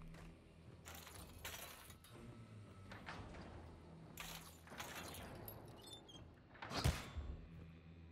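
In Hunt: Showdown at the Sweetbell Flour compound, a sliding door rolls open amid faint, quiet background ambience, with a sharper clattering knock near the end.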